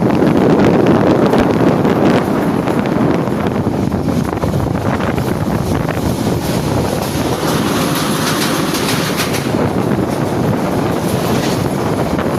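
A train rumbles continuously near Amirganj railway station, a loud steady low roar with rattling and wind buffeting the microphone throughout.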